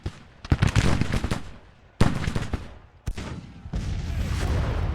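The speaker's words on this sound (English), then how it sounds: "And the artillery's turning on them." Civil War artillery firing in the strategy game Grand Tactician: The Civil War 1861-1865: a rapid string of loud booming cannon blasts, with three separate volleys, each trailing off into a rumbling roar.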